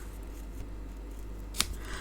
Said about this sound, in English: Ribbon scissors again.